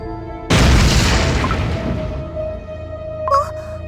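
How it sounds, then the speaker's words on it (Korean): A huge explosion in the video game Cookie Run: Kingdom bursts in loud and close, a deep rumbling boom that slowly decays over several seconds, with a short bright magical chime near the end. "저기 사일런트 솔트 쿠키가 있던 곳에서 커다란 폭발이 일어났어."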